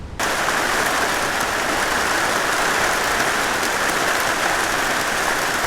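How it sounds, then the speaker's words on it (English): Heavy rain pours down at the end of the day, a dense, steady hiss of drops drumming on surfaces that stays loud and constant throughout, with no voices. "It is raining buckets now"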